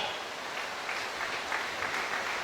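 A church congregation applauding during a worship service, a fairly quiet, steady wash of clapping throughout.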